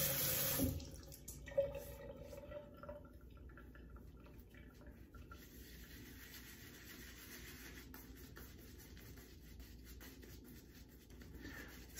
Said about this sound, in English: So I'm gonna put this cream right into the brush here, and we'll build a face lather.